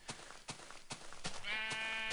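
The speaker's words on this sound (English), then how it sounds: "I can hear a sheep." A sheep in the Minecraft video game gives one drawn-out, wavering bleat near the end, after a series of sharp, regular clicks.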